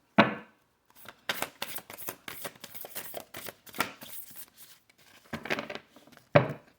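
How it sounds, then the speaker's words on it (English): A deck of oracle cards being shuffled by hand during a card reading, a series of soft riffling and slapping bursts in an uneven rhythm, close and fairly quiet with brief pauses between. "These cards are hard to shuffle."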